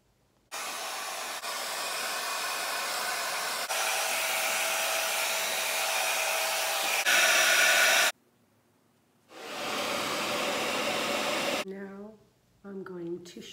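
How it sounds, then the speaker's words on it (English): A hair dryer blows gray hair dry in a steady loud whoosh, cutting off briefly and starting again, with someone talking once it stops. "Now I blow dry it, completely dry"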